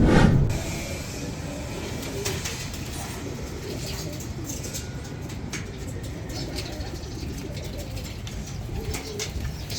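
Racing pigeons coo in a loft in Balatan, with a steady low murmur of many birds continuing throughout over busy background noise and occasional faint voices.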